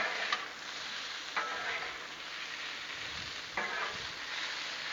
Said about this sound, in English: Give it the sausage a good flip. Keep it all stirred up and get it done.